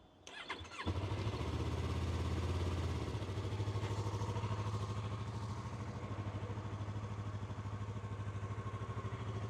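A Yamaha R3 motorcycle with 5,600 km on it cranks briefly, catches and fires up, then settles into a steady, close, rhythmic idle that pulses evenly throughout.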